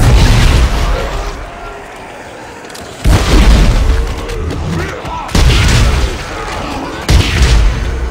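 Force gun firing in Dead Space 3, loud booming blasts repeated about every two seconds, each a heavy burst fading into rumbling decay, no talk.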